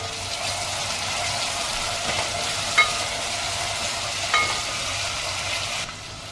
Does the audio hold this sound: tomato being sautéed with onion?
yes